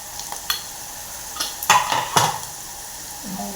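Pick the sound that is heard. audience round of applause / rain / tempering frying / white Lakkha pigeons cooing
tempering frying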